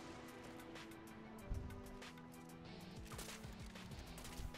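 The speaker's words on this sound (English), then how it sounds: "I'll just barrage you with bullets" Rapid gunfire from Warframe rattles off in a dense barrage of quick shots and impacts, steady and moderately distant over a constant game backdrop.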